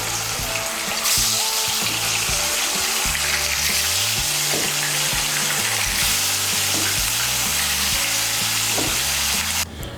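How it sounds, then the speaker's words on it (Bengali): Pieces of rohu fish, marinated with a little oil, sizzle loudly and steadily in hot oil in a kadai for a Bengali fish curry, with occasional stirring clatter throughout. "এর মধ্যে আমি মাছগুলো ভেজে নিচ্ছি।"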